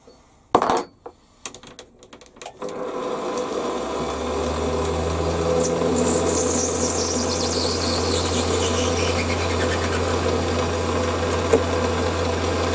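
A Warco WM180 lathe machines small steel parts in batchwork, starting with a few sharp knocks, then a steady motor drone with a rising, sweeping metallic squeal from the cut, continuous and close.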